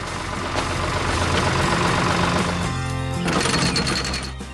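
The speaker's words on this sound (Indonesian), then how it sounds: "Traktor itu sedang bekerja keras membajak tanah agar siap ditanami benih-benih yang sehat" A tractor engine works hard while plowing soil, a loud, steady, low mechanical drone with a rattling, hammering texture that shifts pitch partway through and keeps running without pause.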